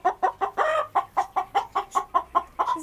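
A rooster or chicken clucks in a rapid, evenly spaced series of about a dozen sharp calls, close and fairly loud, with no talking over it.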